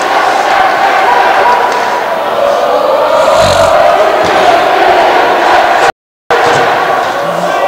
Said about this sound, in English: And that goal right there brought this crowd to life.